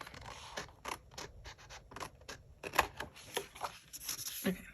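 Scissors trimming excess Live Love Posh rainbow sticker in a planner, a run of quick, close, crisp snips and paper rustles.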